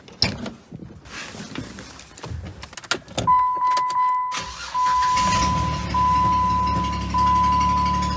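A jeep engine cranks and catches, then settles into a loud, steady rumbling idle with a high whine on top, close by.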